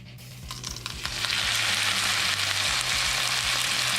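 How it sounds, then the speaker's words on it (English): Steak hits a hot skillet of melted butter and bursts into a loud, dense sizzle that swells within the first second and then holds steady and close, with light spits and crackles. "we're gonna melt the butter and get the pan really hot, because we're gonna sear the steak"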